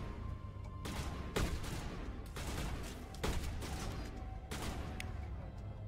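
Repeated shots from a firefight in Mass Effect Legendary Edition, sharp cracks spaced every second or so over a steady rumbling bed, fairly quiet and distant.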